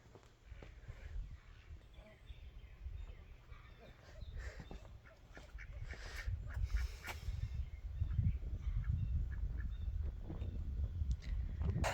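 Ducks quack repeatedly at close range over a steady low rumble of wind and movement, with a voice briefly mixed in.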